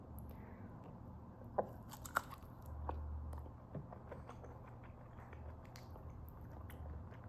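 Fufu with meat being chewed close up, a soft wet mastication with a few sharp crunchy bites standing out against a quiet room, no talking.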